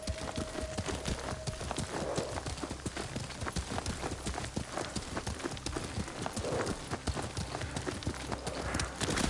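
Steady horse hooves clip-clopping at a walking pace over a low background hum in Ghost of Tsushima, continuous throughout, with no one speaking.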